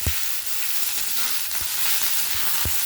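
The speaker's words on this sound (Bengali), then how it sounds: "আমি এখানে কড়াইয়ে তেল দিয়ে দিয়েছি, 5 ফোড়ন দিয়েছি আর একটা শুকনো লঙ্কা দিয়ে দিচ্ছি" Panch phoron spices and a dried red chili sizzle in hot oil in a kadai wok during village cooking: a steady, close frying hiss broken by a few sharp pops.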